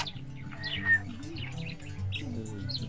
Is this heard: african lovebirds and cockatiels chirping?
yes